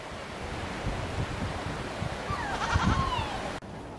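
Goats bleating outdoors near a garden, one clear wavering bleat rising over a steady wind-like rush, fairly close and without talk.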